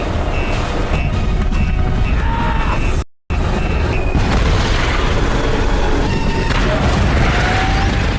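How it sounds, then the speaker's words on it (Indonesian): A helicopter blown up by a bomb in an action film: a loud, sustained roaring blast and rumble of debris filling the scene, briefly cut off midway, then continuing with crackling wreckage noise. "memberikan bom cadangan untuk meledakkan helikopternya"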